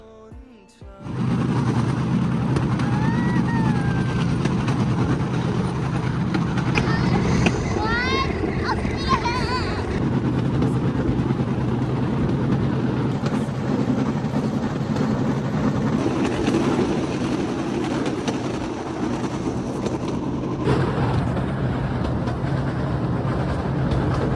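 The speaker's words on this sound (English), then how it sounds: "They put the generator right at the back over here to attach with the rope, and it runs this bamboo train" A steady generator drone runs continuously with a rattling, rumbling rhythm as a bamboo train rolls along its track in Cambodia, pulled by a rope from the generator at the back, with faint voices now and then.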